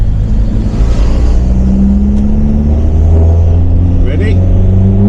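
A car engine revs hard while accelerating on a road, its loud, sustained drone rising in pitch during a clutch slipping test, with someone speaking briefly over it.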